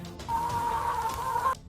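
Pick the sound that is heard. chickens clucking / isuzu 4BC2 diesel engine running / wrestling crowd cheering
chickens clucking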